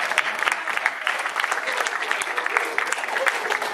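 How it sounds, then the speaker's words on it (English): A crowd at a lecture on Malcolm X claps in dense, lively applause, with individual claps popping out of the steady roar throughout. "Give that man a round of applause."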